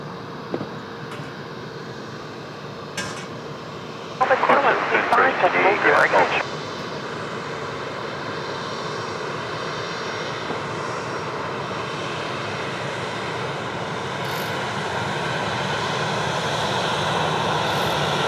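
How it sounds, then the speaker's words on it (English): An Air New Zealand airliner departs Sydney Airport, its engines a steady, fairly distant roar that builds slowly, with a brief burst of radio chatter and a few scattered clicks. "There's our first of the Air New Zealand departures this morning."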